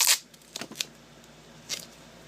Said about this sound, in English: simply dabbing the brush on to the duct tape